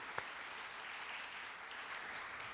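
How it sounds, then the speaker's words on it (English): Applause from an audience at the welcome and opening of a university math olympiad, a faint, even wash of clapping heard from a distance and lasting throughout. "please join me in giving him a huge round of applause"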